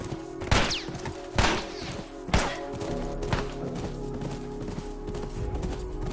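Horse hooves pound in The Last of Us video game, with several loud, heavy thuds standing out against a busy, continuous game soundscape of rumbling and background noise.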